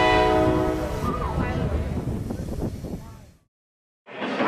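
Train running along a river, a loud horn blast over rolling wheel noise that fades out, cuts to brief silence, then returns.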